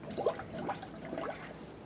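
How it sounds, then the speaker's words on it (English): Coolant bubbling and gurgling up out of the radiator filler of a 1995-2004 Toyota Tacoma 2.4L L4 as trapped air burps out, a few soft glugs and trickles, quiet and close. "Fill this up and let it burp out all the air naturally"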